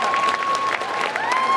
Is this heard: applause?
yes